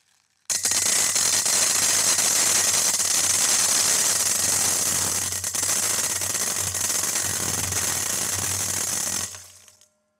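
A large pour of many metal BBs rattles steadily into a metal bowl, a dense, continuous clatter lasting about nine seconds at even loudness before stopping abruptly, with no talk.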